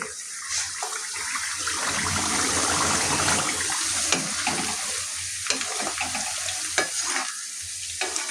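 Herbs fry in oil in a pan for a homemade herbal hair oil, a steady close sizzle broken by occasional stirring scrapes and small pops.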